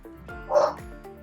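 A single dog bark sounds at a distance, muffled and moderately loud, in an otherwise quiet indoor room.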